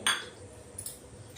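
A spoon clinks sharply against a bowl while coriander and spice stuffing with oil for stuffed bitter gourd is mixed, with a second softer clink shortly after.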